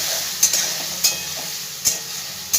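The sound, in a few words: ginger paste and spices frying and being stirred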